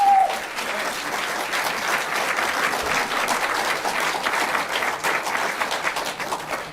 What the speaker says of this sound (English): please give Governor DeWine a round of applause